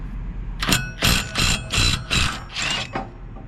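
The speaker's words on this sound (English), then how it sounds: "Go ahead and get your impact wrench." An impact wrench loosens the blade bolt on a Wright Stander I 36 mower, giving six short rattling mechanical bursts in quick succession, close and loud, with no talking.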